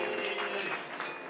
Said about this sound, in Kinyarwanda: reka bongera baguha amashyi